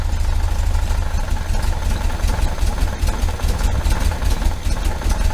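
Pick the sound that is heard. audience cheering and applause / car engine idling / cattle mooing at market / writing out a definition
car engine idling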